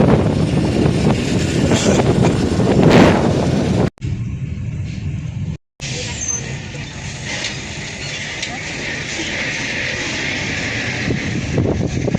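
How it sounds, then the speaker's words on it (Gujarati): Strong wind roars against the microphone in a loud, continuous rush, briefly cutting out twice before resuming, with faint voices underneath. "જોરદાર પવન ને વાતાવરણ થઈ ગયું છે"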